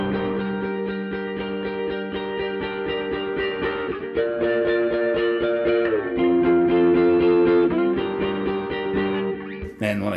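Electric guitar through a dirty tube amp combination with vibrato on one side to mimic chorus, steady strummed chords with a wavering, slightly detuned shimmer, loud and alone throughout.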